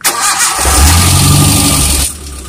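A 2003 Suzuki Carry Futura 1.5 engine cranks and catches, then settles into a steady, smooth mid-pitched running rumble, loud and close with no talking.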